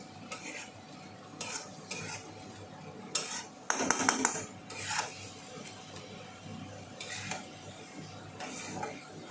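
Fish curry is sautéed and stirred in a pan with soft, intermittent spoon scrapes and a brief metallic clatter over a faint sizzle, fairly quiet and close.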